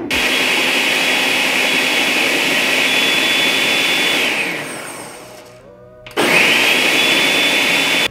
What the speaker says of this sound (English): Now we just gotta blend it up.